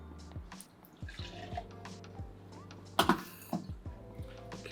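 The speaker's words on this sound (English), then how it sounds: "in here I'm going to add, again, 2 ounces, also known as 60 mils, of the Howler Head Banana Whiskey" Howler Head Banana Whiskey poured into a glass with ice, quiet liquid trickling and dripping with scattered ice clinks and a sharper clatter partway through, close and soft, no talking.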